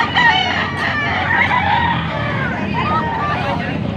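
A 1.5 rooster stag crows loudly and close at a busy gamefowl market in Pampanga, Philippines, with other fowl clucking and a hubbub of voices throughout.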